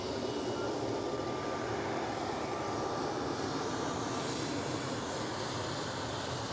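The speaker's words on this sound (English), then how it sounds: "German Airways E190 flying for KLM City Hopper." A German Airways Embraer E190 jet flying for KLM Cityhopper at Amsterdam Schiphol gives off a steady, broad engine roar that holds at an even level throughout, with no voices.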